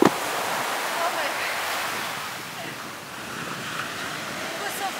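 Ocean surf rolls onto Kuta beach in Bali, a continuous broad hiss of breaking waves with wind gusting across the microphone, loud and close throughout, with no clear voices.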